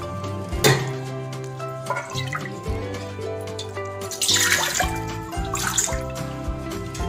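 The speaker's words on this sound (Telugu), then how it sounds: "ఇప్పుడు దీంట్లో మనం నీళ్లు కొలుచుకుని వేసుకోవాలి" Measured water is poured into a thick-bottomed pot for cooking sago, giving a close splashing and gurgling flow with shifting pitch as the pot fills, in two main bursts with no talk.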